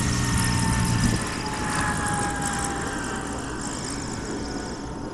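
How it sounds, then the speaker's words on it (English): Panthera light aircraft flying during a flight demonstration, a steady loud engine drone with a sustained whine that holds level throughout, briefly stronger at the start, with no talk. "Gorgeous, gorgeous plane."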